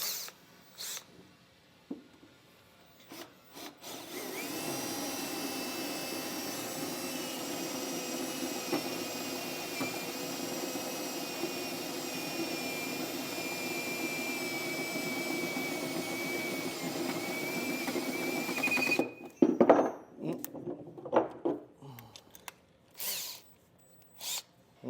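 A power drill runs steadily for about fifteen seconds, enlarging bolt holes in a steel base rail for an above-bed fifth wheel hitch. The motor whine holds an even pitch, then clatters and stops amid short bumps and handling noises.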